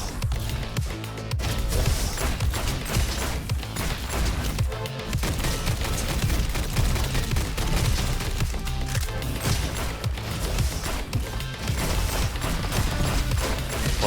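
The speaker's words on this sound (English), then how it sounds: "Can't believe I haven't found anything better than the dinky little starter pistol." Gunfire from a small starter pistol in a video game, rapid repeated shots and booms crackling densely over a busy, loud background of game action, with a few brief dips.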